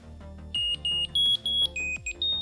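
A Bluetooth item tracker inside a bag sounds its locating alert: a loud, rapid series of about eight high electronic beeps in short bursts, some rising in pitch, clear over faint background noise.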